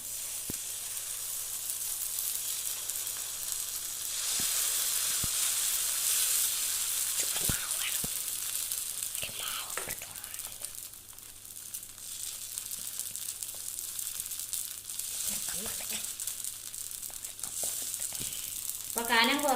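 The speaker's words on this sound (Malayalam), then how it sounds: "മാവ് ഒഴിച്ചു കൊടുക്കുവാണ്" Dosa batter poured onto a hot pan for masala dosa gives a steady, close sizzle and hiss, with a few scraping clicks and rustles over it.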